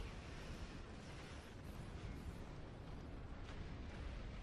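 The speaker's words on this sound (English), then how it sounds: "Wow, that's a lot of explosions all at once there" Rumbling, overlapping explosions from a Star Trek Online space battle fill the span with a broad, continuous roar, distant-sounding and fairly quiet, with a few sharper bursts rising out of the din and no one speaking.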